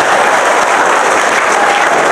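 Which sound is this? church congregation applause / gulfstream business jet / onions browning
church congregation applause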